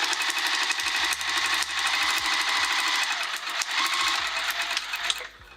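A sewing machine running fast, basting the edges of a quilted vinyl pouch, a loud close rapid mechanical whirr of stitching with brief slowdowns, stopping near the end, no talk.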